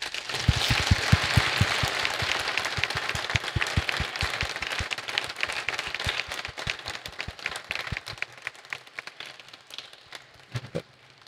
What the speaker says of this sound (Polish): Prosiłbym o oklaski.